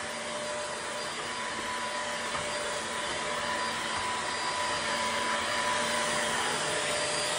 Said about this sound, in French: je le mets en puissance max quand même et voyons voir